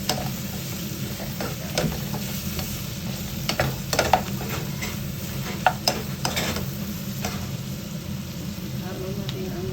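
Garlic, onion and ginger sauté in hot oil in a pan for dinuguan, giving a steady sizzle with scattered clinks and scrapes of stirring, close and continuous under a low background hum.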